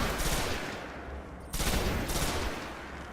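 Rifle gunfire in the video game Destiny, a steady dense rattle of rapid shots with a brief dip mid-clip, loud and continuous with no talking.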